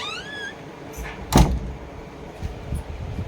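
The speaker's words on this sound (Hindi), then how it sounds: "ये जो दरवाजे हैं ना मेरे, आवाज़ कर रहे हैं बहुत ज़्यादा।" Household doors creak open with a rising, high-pitched squeak, followed by a sharp thud. Quieter knocks and shuffling come after.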